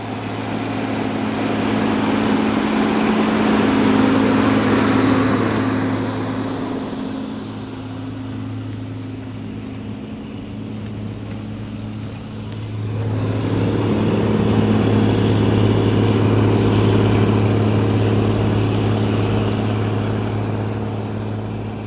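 A McConnell-Marc 990 four-wheel drive tractor engine drones steadily and loud while plowing, easing down in the middle before swelling back up, heard from the operator's position.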